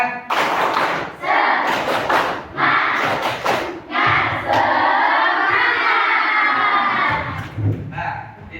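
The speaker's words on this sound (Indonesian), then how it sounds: "mari kita tepuk semangat" A classroom of children performs the tepuk semangat rhythmic clapping chant, loud bursts of clapping and shouted chanting in sections, with a teacher's voice leading between them.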